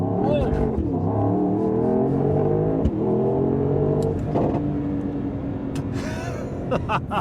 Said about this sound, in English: holding your foot hard on the brake, pinning the throttle, building up the revs, then letting go of the brake